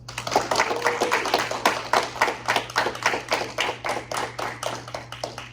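An audience applauds graduates of a dental assistant class at a graduation ceremony, many hands clapping in a brisk, continuous patter that carries strongly throughout, with a low steady hum underneath.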